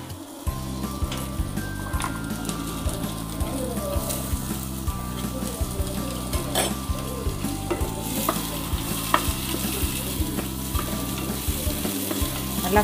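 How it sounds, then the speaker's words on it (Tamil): Chopped onions go into a pan of frying ginger and are stirred, a steady loud sizzle running throughout with regular scraping strokes of the spoon and a brighter hiss building toward the end; no talking. "இஞ்சி ஃப்ரை ஆகிட்டு இருக்குதுங்க. அடுத்தது வெங்காயம் போடுறேன்."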